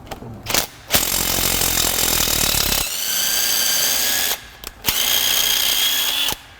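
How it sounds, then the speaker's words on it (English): An impact wrench with a 13 mm socket spins a bolt on a 1998 Mazda 626 suspension in two loud, rattling, hammering bursts with a short pause between, close up and with no speech. "So I've just got a 13 millimeter on my impact. I'm just gonna, like I say, spin it."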